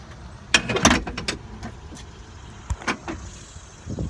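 An Isuzu gas standard-cab truck's tilt cab is lowered by hand, giving a cluster of loud metallic clunks and rattles near the start, then a few softer knocks and a final thud, with no talk.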